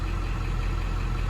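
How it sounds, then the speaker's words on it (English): A 1999 Ford F350 truck with a 7.3 engine idles in a steady low, rough rumble, heard up close with no talking. "I'm surprised it's even idling right now."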